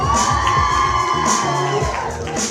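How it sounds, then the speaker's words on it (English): Wedding guests cheer and whoop as a bridesmaid, Chantel, enters escorted by the best man, a loud, continuous crowd roar with music playing underneath throughout. "please keep that round of applause going for Chantel being escorted by best man Jason"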